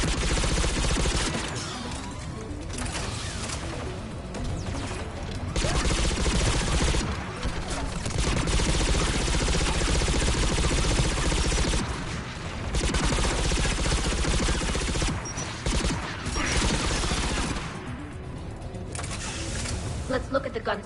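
Turret gunfire in the Mass Effect 3 Legendary Edition video game, sustained bursts of automatic fire in rapid fusillades with brief gaps, under game noise and occasional speech.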